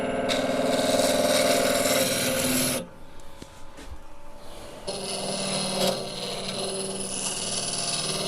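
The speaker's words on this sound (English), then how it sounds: "I'm going to drill another depth hole, back hollow the base." A steady grinding rasp of a drill boring a hole in wood on a lathe-turned piece, loud and continuous, cuts out briefly mid-clip, then resumes with a slightly different tone.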